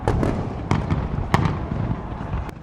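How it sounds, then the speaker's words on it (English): New Year's Eve fireworks over Sydney Harbour Bridge, a steady crackling roar punctuated by several sharp, loud bursts, dense and continuous throughout. "Australia's signature fireworks over Sydney Harbour Bridge"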